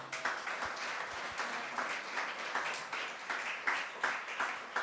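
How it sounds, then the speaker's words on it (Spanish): A church congregation claps together during a teaching service, a dense, steady wash of many hands that keeps up for several seconds at fairly close range. "Den una ofrenda de aplauso al Señor."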